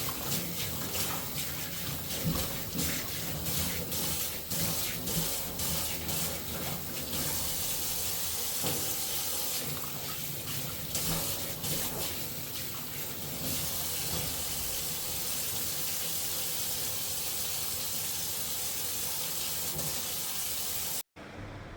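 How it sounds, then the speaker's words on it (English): Running water pours steadily into a sink as material is washed down inside it, a loud continuous broadband rush with some splashing variation across the whole stretch, then cutting off abruptly near the end. "I'm gonna wash this stuff down."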